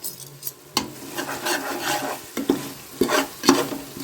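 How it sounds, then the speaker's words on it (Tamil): Shallots and cinnamon fry in oil for Dindigul-style mutton biryani, a crackling sizzle punctuated by several firm clanks and scrapes of a ladle stirring in the pot, close and clear. "அதனால் சின்ன வெங்காயம் பட்டையும் எண்ணெயில் போட்டோம்"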